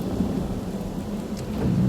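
Rain and thunder in the video game Divinity: Original Sin, a constant dense rain hiss under a low rolling rumble that swells slightly toward the end, with no voices.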